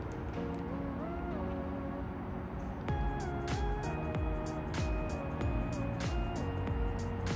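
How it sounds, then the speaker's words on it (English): A BMW X3 starting up, a sudden onset about three seconds in giving way to a steady idle with repeated short clicks and tonal chimes over it, heard close and at moderate level. "Let me turn the car on."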